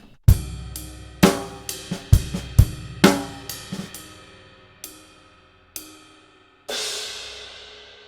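Drum-kit bars from a Grade 4 rock and pop lesson piece: sharp, sparse hits with ringing cymbal decay, a buzz-stroke flurry, then a held ride or crash wash to close.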